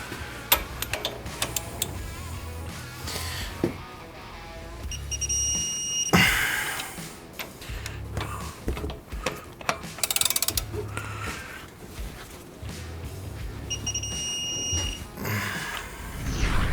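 A wrench torques caliper bracket bolts to 275 foot-pounds on a rusty Ram 2500 Cummins diesel, giving a series of close metallic clicks and ratcheting ticks with clanks throughout.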